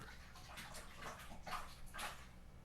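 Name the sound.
aquarium water change, draining goldfish tank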